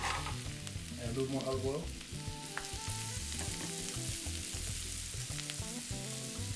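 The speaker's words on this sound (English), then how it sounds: "The pan is hot. To that, I'm going to add my mushrooms." Mushrooms fry with olive oil in a hot pan, a steady loud sizzle and crackle that runs throughout with occasional stirring scrapes, while a person speaks briefly over it.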